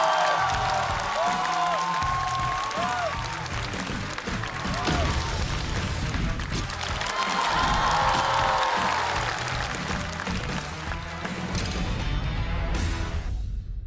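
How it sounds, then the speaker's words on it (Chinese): A stand-up comedy audience claps, cheers and whoops as two competing teams are called onstage. Broad, sustained applause fills the room and swells midway, with scattered shouts rising above the clapping. It fades near the end. "掌声有请！"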